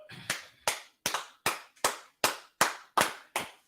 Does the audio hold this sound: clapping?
yes